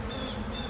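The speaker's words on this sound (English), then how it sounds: "Now you notice the bees now are landing on me, but they're not stinging." Honeybees buzz steadily around an open beehive, a continuous close, dense insect drone with a sustained whine, with no voices.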